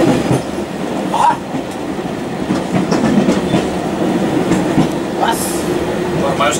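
A metro train rolls past with a steady rumble and rhythmic clickety-clack of wheels, plus a faint squeal, heard loud and continuous throughout with no talk.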